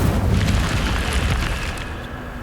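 Incendio fire spell cast in Hogwarts Legacy, a loud close fiery burst that roars at once and then slowly fades into a dull rumble.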